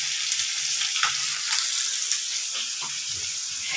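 Fish frying in a pan gives off a steady, close sizzling hiss that continues throughout, with faint bubbling pops underneath.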